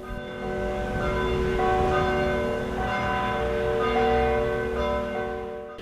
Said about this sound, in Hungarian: Karcagon az országzászló félárborszra eresztésével 100 másodpercig szólt a harang.